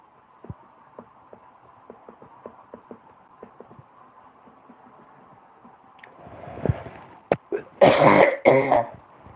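Quiet ticking clicks lead into a rough throat clear and a couple of heavy coughs close to the microphone.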